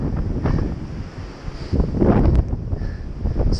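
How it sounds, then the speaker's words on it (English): Strong, steady wind gusts buffet the microphone on the exposed Wildcat Mountain summit, a loud continuous rumble that swells and rushes with no voices present. "I'm trying to speak right into the microphone because it's freaking windy."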